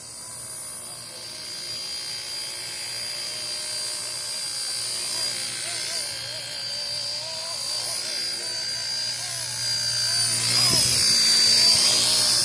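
ERA C032 RC helicopter in blue and yellow flying over the desert and coming in to land, a steady whining rotor and motor hum that swells louder toward the end, with a person talking over it.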